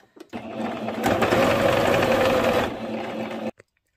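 A sewing machine runs a long gathering stitch through fabric for a tiered elastic skirt. It gives one close, steady whir for about three seconds, picks up slightly midway, then cuts off abruptly, with no one talking.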